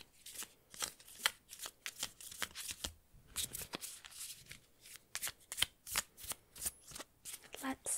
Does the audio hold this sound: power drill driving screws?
no